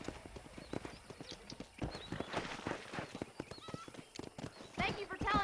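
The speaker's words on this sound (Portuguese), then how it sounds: "eu só chamei meu cavalo e ele para do meu lado" Rapid hoofbeats of a horse in the video game Red Dead Redemption clatter along with a couple of whinnying neighs, while someone talks over them.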